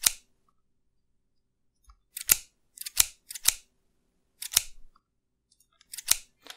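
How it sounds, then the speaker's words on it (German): Scissors snip quickly in close recording for a Minecraft shears sound, with five or six crisp, separate metallic cuts between stretches of silence. "hier habe ich die Schere einfach schneller bewegt"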